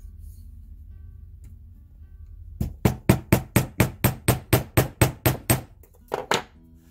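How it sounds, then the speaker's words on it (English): About twelve sharp, evenly spaced hammer blows on wire for a wrapped heart stone pendant, struck against the edge of a table, close and loud after a quiet start, followed by a couple of lighter taps. "I'm going to hammer it"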